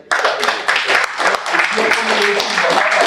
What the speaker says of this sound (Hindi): एक ताली बजा दो भाई।